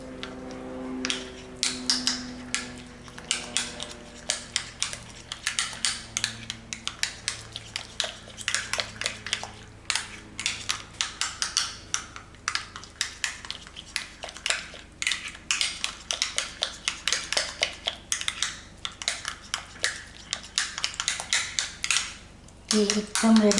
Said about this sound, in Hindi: अब इस वाले में हम डालेंगे पीनट बटर और इसको अच्छे से मिक्स कर लेंगे